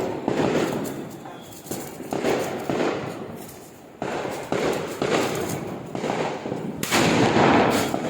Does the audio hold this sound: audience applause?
no